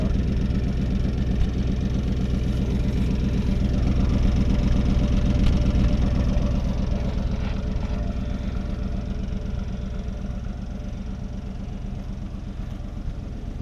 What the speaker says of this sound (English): You can hear the electric fuel pump clattering a little bit.